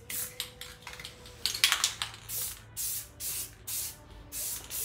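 Spray painting a Kawasaki Vulcan bobber motorcycle frame: repeated short hissing bursts of the spray can, some quick and clustered, then longer even sprays in a steady rhythm, close and fairly quiet, with no talking.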